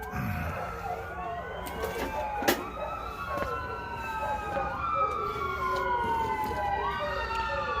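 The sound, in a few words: ambulance siren passing by house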